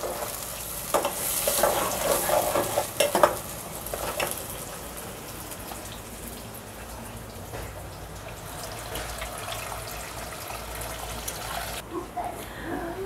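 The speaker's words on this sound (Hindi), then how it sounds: "मैंने ऑयल गरम तो पहले से कर लिया था उसके बाद मैंने तीन अदद प्याज डाली हैं काट के" Three chopped onions fry in pre-heated oil for an aloo gosht curry. The sizzle stays soft and continuous under clattering stirring strokes, busiest near the start and then settling.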